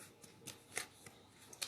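Tarot cards are handled and shuffled close by in a quiet room: a faint riffle with sharp, papery snaps at irregular intervals that ends in a final flick, with no voices.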